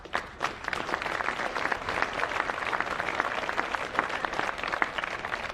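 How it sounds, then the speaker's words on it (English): Sustained applause from an audience at the final of a national under-18 women's tournament, steady dense clapping throughout with no speech over it. "Keep that round of applause going again"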